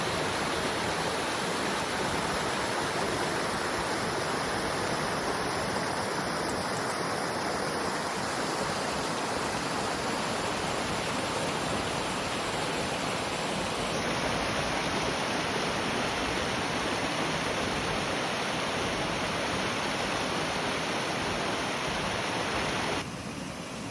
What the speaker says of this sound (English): Following the path of the streams, you'll see another waterfall at the lookout.